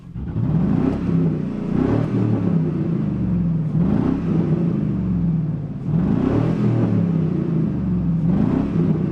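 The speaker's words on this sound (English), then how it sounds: "I bet you it's idling 50 RPMs better." A steady, low engine rumble from an old Chevrolet Silverado pickup truck, about 24 years old, idles continuously with a faint rhythmic surge every couple of seconds, close by and with no talking.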